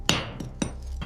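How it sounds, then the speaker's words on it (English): Hammer strikes hit a sealed tunnel wall being breached: three or four sharp, separate knocks about half a second apart, close and fairly loud, each ringing briefly. "Frank, how quickly can we breach this wall?"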